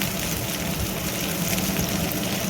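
Chopped chillies and capsicum fry in a pan for chilli chicken and are stirred about, making a loud, dense, continuous sizzle with a watery hiss, close by and steady, with no speech.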